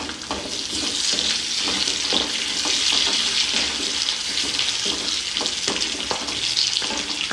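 Curry leaves hit hot oil for a vindakka moru curry and give a loud, continuous crackling sizzle. Sharp spits and pops rise above a dense hiss, close up, with no voices.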